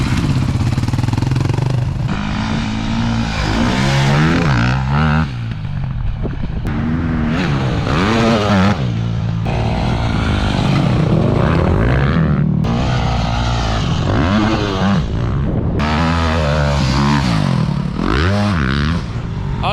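A KTM motorcycle engine is revved hard again and again, each loud, close burst of throttle rising and falling in pitch over about twenty seconds, with no talking.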